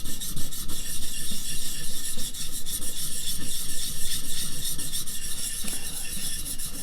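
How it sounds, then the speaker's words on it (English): A steel chisel is rubbed against a sharpening stone in steady, close rasping strokes that run continuously and evenly without pause, with no talk. "just kind of holding the stone on top of that chisel and get everything good"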